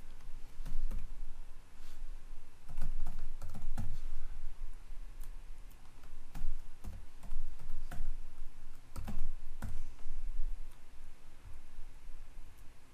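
Someone types a root password on a computer keyboard during a CentOS 7.6 installation, giving a close run of uneven clicks and key taps with short pauses between bursts.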